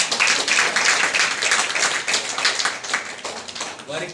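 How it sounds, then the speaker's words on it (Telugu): An audience clapping at a ceremony honouring people, a short burst of hand claps with an uneven patter, loud and close, mixed with speech. "చప్పట్లు కొడదాం గట్టిగా."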